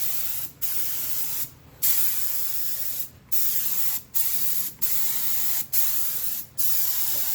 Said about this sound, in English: this sprayer really atomizes the material